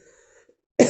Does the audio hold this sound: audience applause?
no